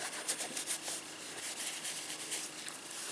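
Galvanized silver beaded jewelry being rubbed to polish it, a soft steady close scrubbing friction with faint quick ticks of beads, quiet and continuous with no talking.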